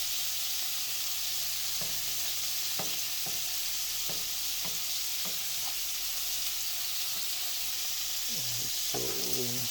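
Couscous with tomato, onion, dry shrimp, salt and vegetable oil sautéing in a skillet, a loud continuous sizzle broken by repeated sharp scraping stirs and a clattering turn near the end.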